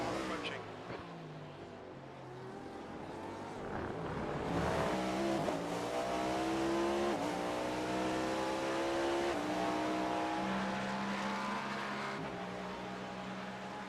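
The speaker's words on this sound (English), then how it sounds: "There's a faster car approaching." Race cars roar past on the Le Mans circuit in an iRacing endurance series race, engines droning and revving loudly with harmonic whine rising and falling as faster cars approach and pass, under occasional talk.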